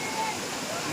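Brief steady rushing roar of the Palakondalu waterfall near Kadapa, heard as even broadband water noise.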